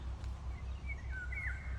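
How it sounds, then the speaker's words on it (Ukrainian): Faint bird chirps rise over a low, steady rumble of background noise, with a short run of calls near the middle. "пташки співають."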